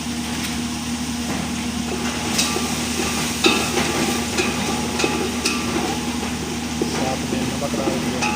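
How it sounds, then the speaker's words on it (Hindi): Bitter gourd curry stirred and mixed in a pan with chili powder and salt: soft scraping and clinking of a spoon over a steady sizzle, with talk in the background. "अब ये सबको इसको मिक्स करेंगे।"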